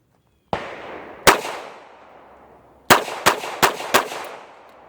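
Six sharp gunshots from a Smith & Wesson 642 Airweight revolver fired one-handed at a range, a single shot, then another, then a quick cluster of four, each crack trailing a short echo.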